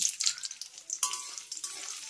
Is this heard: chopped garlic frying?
yes